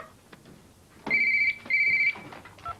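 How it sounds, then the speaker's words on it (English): A telephone rings in two long electronic bursts with a short gap between them, loud and close in a quiet domestic room, with no talk over the rings. "Answer that friggin' phone, will ya?"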